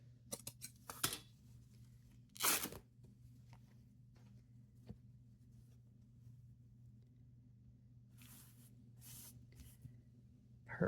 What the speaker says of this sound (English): So let me snip up here